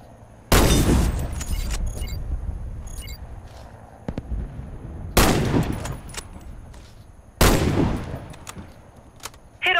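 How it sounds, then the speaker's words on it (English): Sniper rifle shots in the shooter game Warface: three loud, sharp blasts spaced a few seconds apart, each followed by a rolling echoing tail, with faint mechanical clicks between. "hit all the targets with your Sniper rifle"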